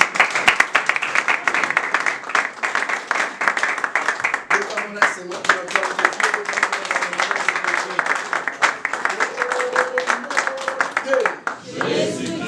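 A congregation claps together at an evening church celebration: dense, continuous, rhythmic clapping throughout, with voices calling out over it.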